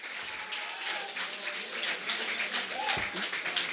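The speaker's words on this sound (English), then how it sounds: "Continue to clap for Morris." An audience claps and applauds after a poetry slam performance, giving a dense, continuous patter of many hands with crowd murmur underneath for a few seconds.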